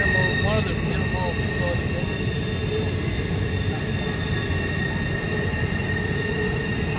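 Freight train with intermodal trailer flats rolls past on the Horseshoe Curve, a loud continuous rumble and clatter of cars with high wheel squeal tones drawn out through the whole passage, with someone speaking over it.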